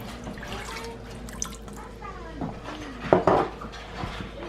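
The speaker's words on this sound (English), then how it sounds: "I'm going to just add some water in here." Water is poured into an Instant Pot set to sauté, with splashing and dripping, a brief louder burst midway, and light clinks of pots and utensils nearby.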